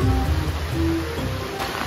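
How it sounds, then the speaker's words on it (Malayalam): Heavy monsoon rain pouring down outside a house, a dense steady wash of noise filling the short stretch, close and loud with no talk. "നമ്മൾ മഴയത്ത് പോയിക്കൊണ്ടിരിക്കുകയാണ്."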